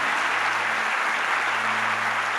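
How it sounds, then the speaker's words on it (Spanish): A church congregation claps in a steady, dense wash of applause, with a low electrical hum underneath. "dele el mejor aplauso que usted tenga al Señor"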